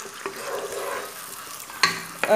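Onion and carrots sauté in a pan with a steady close sizzle and crackle, and a couple of sharper clinks from stirring near the end.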